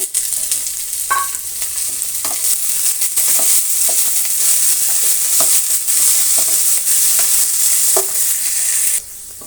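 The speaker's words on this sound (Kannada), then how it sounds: "ಈಗ ಕ್ಯಾಬೇಜು ಅಂದರೆ ಎಲೆಕೋಸು ಸಣ್ಣದಾಗಿ ಕಟ್ ಮಾಡಿರೋದನ್ನು ಹಾಕ್ತಾಯಿದ್ದೀನಿ." Finely chopped cabbage stir-fries in a pan with a bright, loud hiss, and scattered spatula scrapes and taps sound throughout until the sizzle drops off abruptly near the end.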